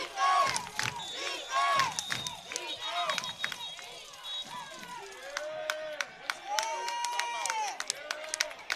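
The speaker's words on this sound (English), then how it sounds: "Crowd turning up. You hear the defense chants." Home crowd at a PSAL 4A varsity high school football game in Brooklyn, Erasmus Hall against Curtis, chanting for the defense in rhythmic bursts with shouts and cheers swelling and fading, while a commentator talks over the stadium noise.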